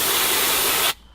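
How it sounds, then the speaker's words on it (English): A public compressed air hose blasts a loud, steady hiss for about a second while blowing dust off a person, then cuts off abruptly. "have a public service and air hose to clean yourself"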